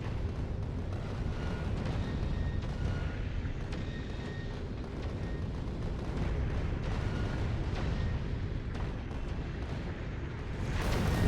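A weapon in Factorio: Space Age keeps firing as a dense, continuous barrage of booming shots, loud and unbroken throughout with no talk.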